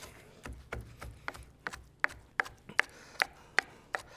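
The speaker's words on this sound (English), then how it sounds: "just taking my Santoku knife and going through it on both sides" Santoku knife slicing through shrimp on a cutting board, a run of about a dozen crisp chops and taps that quicken and sharpen toward the end, close and fairly quiet with no talk.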